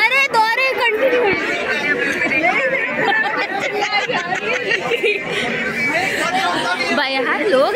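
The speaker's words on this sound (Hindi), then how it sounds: "मस्त भीड़ हो गई है अच्छी खासी" Dense crowd chatter at the Amity International School Noida farewell 2k22, many overlapping voices with occasional laughter, steady and loud throughout, close around the listener.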